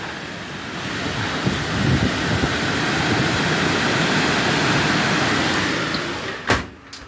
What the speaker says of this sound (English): It got really super windy.